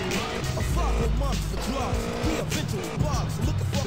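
A motorbike in the video game GTA San Andreas rides through a gate, its engine droning steadily with shifting pitch while a voice talks over it.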